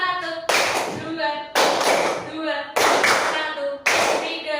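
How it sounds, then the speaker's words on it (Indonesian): Fourth-grade elementary students clap together in a counted classroom rhythm, four sharp unison bursts of claps spaced about a second apart, with the teacher's voice calling the count between them. "Tepuk 1, tepuk 1, tepuk 2, 3"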